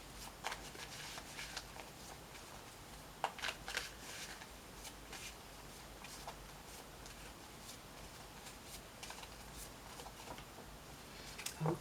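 Tarot cards are shuffled and drawn by hand in a quiet room, a soft, close series of riffling flutters and light snaps in irregular bursts.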